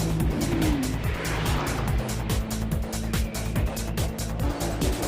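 Race cars roar past at high speed during the Nürburgring 24 Hours endurance race, engines loud and continuous with repeated pass-by sweeps and some tire squeal as faster cars weave around slower traffic.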